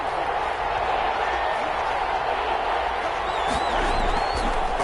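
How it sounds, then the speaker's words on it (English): Crowd noise swells steadily in a televised-style NFL football video game on PS4 between the Panthers and Saints, a broad continuous roar of a stadium crowd building ahead of a big third down, faint whistles on top. "the crowd getting into it as we come up on a big 3rd down"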